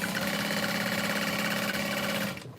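A sewing machine runs steadily, basting the lining of a tote along its sides with a continuous, close, even motor whir before stopping abruptly near the end.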